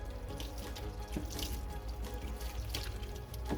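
Tap water runs steadily into a sink while a doll's hair is rinsed under it, a continuous close splashing wash with small gurgles and drips.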